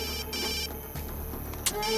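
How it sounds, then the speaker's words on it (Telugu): A phone ringtone sounds for an incoming call in an indoor drama scene, with a steady repeating electronic ring that holds throughout at moderate loudness and no talk over it. "మా అన్నయ్య ఫోన్ చేస్తున్నాడు."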